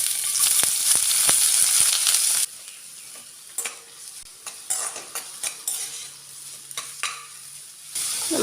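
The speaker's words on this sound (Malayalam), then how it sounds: "എണ്ണ ചൂടായിട്ട് വരുമ്പം ഒരു വലിയ സവാള ഇതിലേക്ക് ചേർത്ത് കൊടുക്കാം." A large onion hits hot coconut oil in a pan with a loud, hissing sizzle for about two seconds, then the sizzle drops to a softer crackle under scraping stirring strokes.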